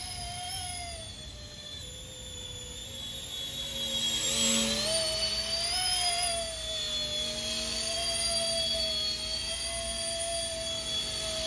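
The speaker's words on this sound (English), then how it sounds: "Sounds like a turbine, actually." An RC ERA C190 scale model H145 helicopter in flight gives off a steady, high turbine whine with a low rotor hum beneath it. The sound stays continuous and swells slightly near the middle, with no voices.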